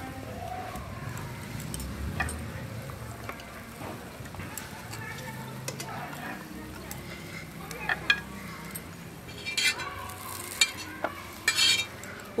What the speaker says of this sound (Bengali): এবার আর একটা দিকও খুব ভালোভাবে এইরকম কালার করেই ভেজে নেব।